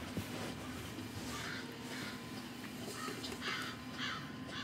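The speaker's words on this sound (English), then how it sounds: "Ah, Crow. Crow!" Repeated crow caws ring out at moderate loudness over a steady ambient bed in the video game Resident Evil 7, several calls spaced a second or so apart.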